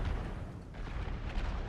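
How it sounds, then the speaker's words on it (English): Artillery fire booms in a video game battle between armies, a dense rumbling barrage of distant cannon blasts rolling on continuously with no clear gaps. "But they are slowly getting wiped out by the artillery."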